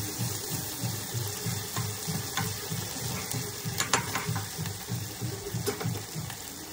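Onions frying in a pan with tomato paste being stirred in, a regular scraping rhythm of the spoon over a soft sizzle, close and moderately loud, with no talk.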